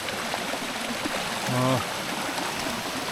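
Steady rushing of a mountain stream flows throughout, close and continuous, on a dark daytime frog hunt, with a brief low hum rising briefly in the middle.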